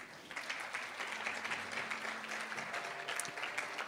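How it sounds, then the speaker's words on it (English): A conference audience claps steadily for a few seconds, a dense, even patter of applause with no voices standing out. "so let's give them a round of applause"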